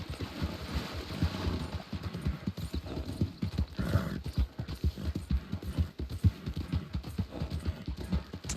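Horse hooves clip-clop in a steady fast rhythm in the Western video game RedM, close and continuous, with a short whinny partway through.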